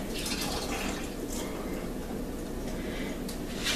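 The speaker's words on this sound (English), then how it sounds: "Now I'm going to drain the juices off of it." Liquid drained from olives infused with jalapenos pours in a steady, continuous wet rush with light dripping, close by and fairly quiet, without any talk.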